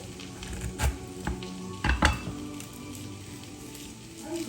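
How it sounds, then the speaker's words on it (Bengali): Okra frying in a pan makes a soft sizzle with several sharp metallic clinks and stirring scrapes near the start and middle, close by and without talk. "ওখানে ভেন্ডি ভাজা হচ্ছে আর আলু আর বেগুনটা ভাজা করতে দিয়েছি"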